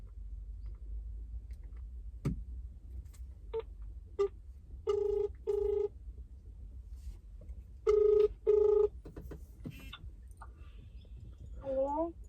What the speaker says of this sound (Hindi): चलते हैं सीधा फोन करते हैं हम, ठीक है, और उसको बुलाते हैं यहाँ पे।